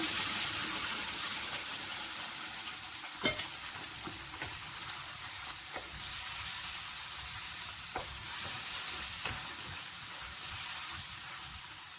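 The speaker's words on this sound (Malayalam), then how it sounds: "അരച്ചു വെച്ച മസാല ഒഴിക്കുക." Ground masala paste sizzles loudly as it is poured into a hot pan of oil with spices for a paneer curry, a dense steady hiss close up with a few light clinks of a spoon and no talking.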